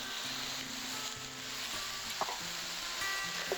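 Vegetables saute in olive oil and butter in a pan for a French-inspired Bordeaux recipe, a soft, low sizzle with a faint steady hum and an occasional light clink.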